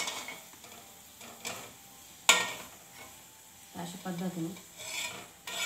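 Golden-fried alu vadi, colocasia-leaf rolls, are lifted out of hot oil with scattered scraping strokes and a sharp clatter over a soft sizzle. A few quiet spoken words pass midway.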